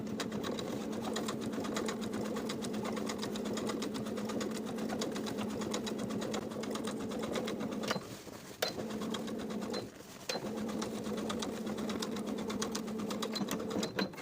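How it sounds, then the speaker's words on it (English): A sewing machine top stitching a jeans seam runs in a steady continuous drone with a rapid needle chatter, with two brief pauses midway, then resumes, close and alone. "Top stitch with about 1/4 inch seam allowance."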